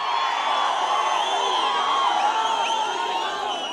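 Political rally crowd in Anantapur district cheering and clapping loudly and steadily, a dense continuous roar of many voices with whoops throughout, no single speaker standing out.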